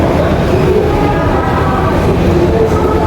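A train rolls steadily on a line between Bhubaneswar and Chilika, its loud rumble and rattle constant and close throughout, with no break in the noise.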